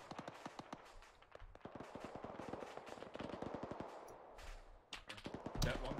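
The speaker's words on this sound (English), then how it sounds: "the explosions are banging" Rapid bursts of automatic gunfire and explosions in a Zeus military video game, dense crackling volleys with heavier booms, loud and continuous, with a voice faintly audible at times.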